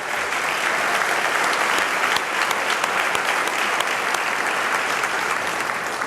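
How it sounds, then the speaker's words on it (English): Sustained, loud applause from an audience at a champions' recognition night, steady and dense throughout with no speech over it. "how about another round of applause for all of our champions tonight?"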